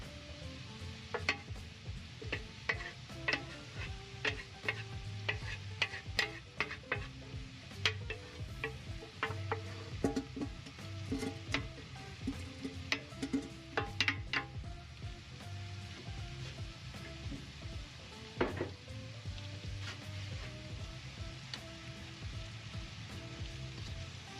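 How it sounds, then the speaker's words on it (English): Vegetables for Ukrainian borscht fry over a small, low fire, giving a quiet, steady crackle dotted with irregular clicks and scrapes of stirring, with no voices. "On a small fire, we will fry it all now"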